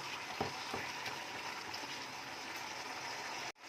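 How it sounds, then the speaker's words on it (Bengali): Oil sizzles and crackles steadily in a pan as chicken fries for Bengali chicken kosha, a soft, even hiss with faint clicks of stirring, close and alone until it cuts off abruptly. "এবার এটাকে অন্তত 1 থেকে 2 মিনিট একটু ভালো করে তেলের মধ্যে ভাজা করে নেব।"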